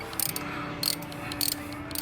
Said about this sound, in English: with your wrench, 10mm, make sure it's off. You line it up with the bolt and then just start wrenching off